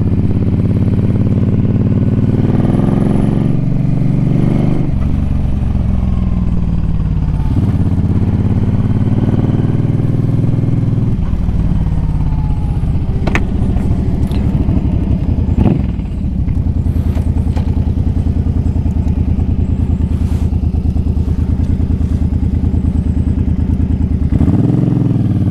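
A Suzuki M50 motorcycle engine rumbles loudly while riding, its deep throb rising and falling with shifts and throttle changes, with occasional clatter and wind rush over a continuous near roar.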